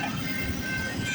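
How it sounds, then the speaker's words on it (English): A long CPKC intermodal freight train rolls past nearby with a continuous low rumble and rail noise. There is no talking over it. "There's the intermodal."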